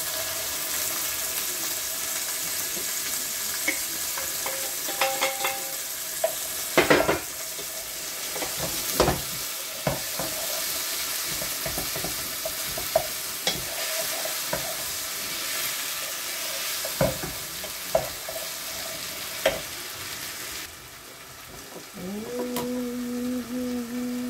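Onions, garlic and parsley frying in a pan, a continuous sizzle with scattered scraping clicks of a utensil, loud and close throughout.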